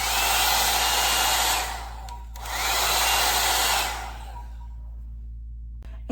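A L'ANGE 2-in-1 titanium blow dryer brush running on hair gives a loud, steady blowing roar that briefly dips around two seconds, then resumes before fading and cutting off, with a click near the end.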